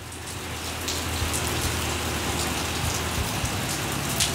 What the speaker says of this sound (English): just a little rain.